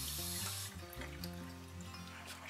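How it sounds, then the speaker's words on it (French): Water running steadily from a tap as a Real Techniques cleaning glove is rinsed in a sink, a continuous close splashing rush with no talking. "Je vais rincer pour vous montrer."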